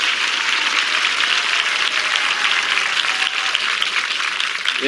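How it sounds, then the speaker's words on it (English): A daytime TV game show studio audience applauds two child contestants during a kids' week episode, a full, steady wash of clapping from a large crowd with no talk. "They're applauding for you, Shawn."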